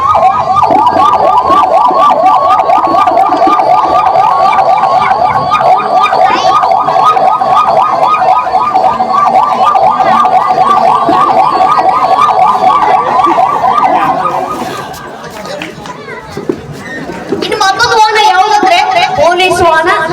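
A stage singer vocally imitates a 108 ambulance siren, holding a loud, steady wailing warble for most of the stretch before it breaks off into a brief lull and then other vocal sounds.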